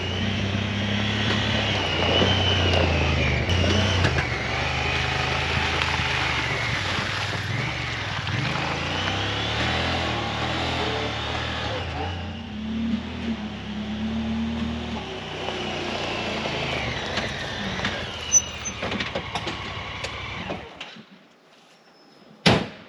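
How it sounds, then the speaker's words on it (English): A farm tractor with an auger mounted on the back runs steadily nearby, a continuous engine drone with shifting pitch, then it cuts off, leaving quiet broken by a few clanks and a final thump. "get the tractor set up with the auger on the back"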